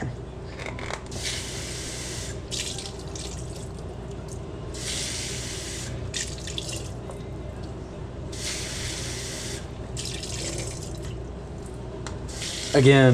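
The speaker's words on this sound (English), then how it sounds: "You want to wash the bean stuff." Canned beans being rinsed under a running kitchen tap, a steady close spray of water hitting the beans and sink throughout, with brief louder splashing bursts and a person speaking over it.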